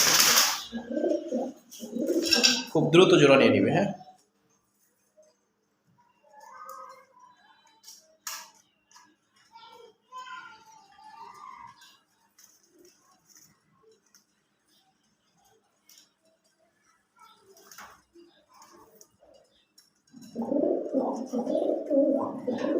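Pigeons coo softly in a loft while a new pair is being put together, with low murmuring calls scattered through a quiet stretch; louder bursts of talk and handling noise open and close the scene.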